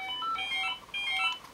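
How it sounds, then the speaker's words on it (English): A telephone beside a 1965 Watkins Copicat under service sends out a short run of faint electronic dialing tones, two quick clusters of beeping notes separated by a brief pause, with no talking. "Ignore the phone for a minute."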